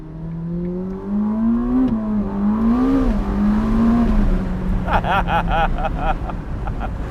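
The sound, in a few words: Ferrari SF90 Spider hybrid accelerating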